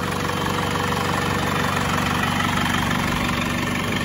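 A Mercedes B180 engine idles steadily in its open engine bay, a close, even mechanical hum with a fine ticking texture running throughout without pause.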